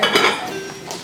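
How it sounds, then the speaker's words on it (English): A spoon scraping and clinking inside a pot of boiling traditional Sicilian meat sauce, a few close metallic knocks and scrapes in quick succession with no talking. "You're gonna stir it up now, it's boiling."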